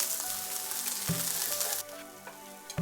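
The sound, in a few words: shallots frying and being stirred in a pan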